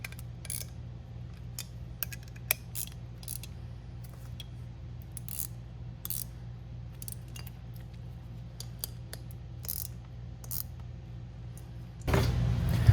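Bolts being tightened with a ratchet on a truck being lowered, a series of sharp metallic clicks and clacks in irregular bursts over a low steady hum, ending with a louder mechanical buzz.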